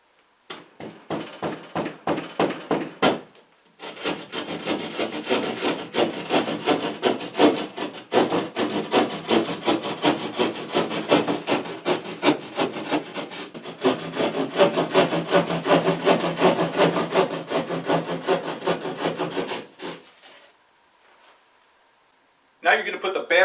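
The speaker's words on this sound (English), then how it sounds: "Square off the hole first using a razor knife or a drywall saw." A drywall saw rasps back and forth through drywall board to square off a hole, a close, steady run of rapid strokes with a brief pause early on and a stop near the end.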